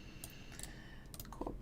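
Quick keystrokes on a computer keyboard while copying data, a few light clustered clicks close to the microphone over a low steady background hum.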